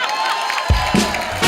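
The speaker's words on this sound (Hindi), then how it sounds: "इस बात के लिए जोरदार तालियां।" A studio audience at a comedy talk show cheers and whoops loudly in a brief burst, with crowd noise swelling after a sharp onset.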